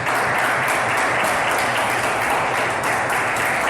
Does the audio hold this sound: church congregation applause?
yes